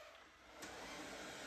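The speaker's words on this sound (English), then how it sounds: "so it's going to go into vacuum mode more efficiently here." A Samsung Bespoke Jet Bot Combo robot vacuum running in vacuum mode with its mops removed, giving a steady, quiet whirring hum that swells slightly partway through, with no voices.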